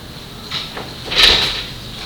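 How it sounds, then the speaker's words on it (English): Classroom doors are pushed shut with a couple of soft bumps and then a louder closing thud with a bright latch rattle, fairly close, no voices over it. "Luke, would you grab those doors over there?"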